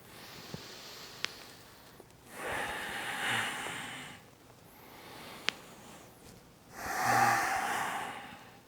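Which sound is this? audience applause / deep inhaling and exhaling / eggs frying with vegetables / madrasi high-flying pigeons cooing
deep inhaling and exhaling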